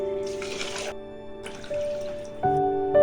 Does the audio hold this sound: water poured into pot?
yes